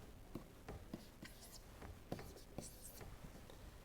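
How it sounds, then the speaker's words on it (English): Faint scratching strokes of a pen or marker writing out notes during a public transport costing lecture, with soft taps between strokes and light breathing nearby. "Let me write down, then I will explain."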